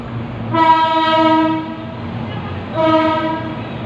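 A train horn sounds at a railway station in two long blasts, the second starting shortly after the first ends, loud and close over low rumble.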